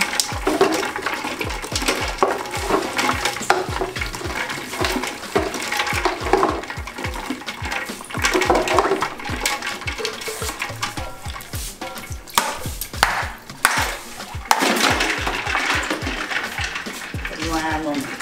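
Asana, a Ghanaian local drink, being stirred as liquid is poured in, giving steady close sloshing and splashing with quick rhythmic stirring strokes throughout, alongside some voices.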